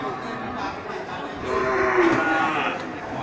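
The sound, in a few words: Aceh cattle mooing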